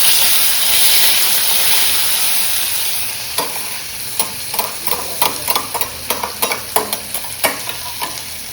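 Taro leaf curry sizzles steadily in a pan, a continuous frying hiss joined after a few seconds by a series of sharp, rhythmic scrapes and knocks of stirring, close and fairly loud, with no talking.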